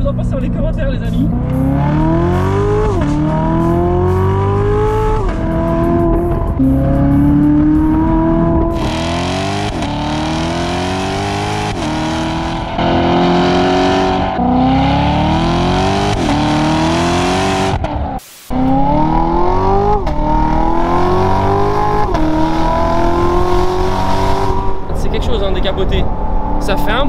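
A stock 660 hp Corvette engine revs repeatedly, its loud pitch climbing and falling in waves, and a voice talks over it the whole time.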